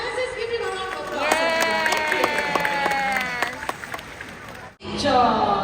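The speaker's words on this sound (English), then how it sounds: "Let's just give him a round of applause." An audience at a bird show in a Singapore bird park applauds with a spread of claps and crowd noise, heard under raised voices and calls throughout.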